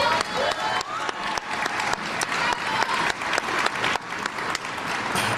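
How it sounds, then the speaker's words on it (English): A crowd at a Soldier Ride event for wounded warriors in Washington, DC gives a round of applause, with steady, fairly close clapping from many hands and a few scattered cheers, lasting several seconds. "Give her a big round of applause."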